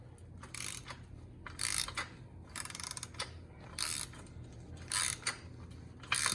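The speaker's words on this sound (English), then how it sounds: "And now Sophia's taking the bolts off." A ratchet wrench clicks in short bursts as bolts are backed off the rear bumper of a 1970 Camaro, loud and close, with pauses between the spells of turning.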